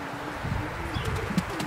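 A racing pigeon coos softly in a few low, brief notes against a quiet background hum at a pigeon loft during winter racing.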